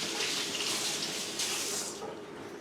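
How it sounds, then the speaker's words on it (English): Tap water runs steadily into a kitchen sink as hands are rinsed before making a fruit crumble, a continuous close hiss that eases off near the end, with no talking. "get my hand rinsed off here carefully"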